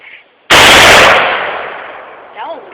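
A single loud AR-15 rifle shot cracks outdoors after a brief quiet moment, then rolls off in a long fading echo, with a short voice near the end.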